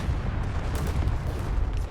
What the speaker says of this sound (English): Although I don't think the artillery did anything.